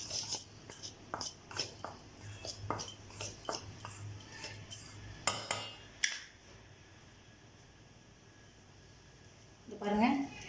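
A sweet mixture being stirred by hand in a bowl, with a run of close scraping and tapping strokes of the utensil under someone talking, then a quieter stretch before a brief rustle at the end.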